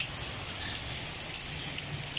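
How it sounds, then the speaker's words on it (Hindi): Heavy rain pouring down on an afternoon in Pakistan, a dense steady hiss of drops striking surfaces, continuous and fairly close, with no talking. "ये देखें कितनी तेज़ बारिश लगी हुई है, आजकल बारिशों ने जोर दिया हुआ है"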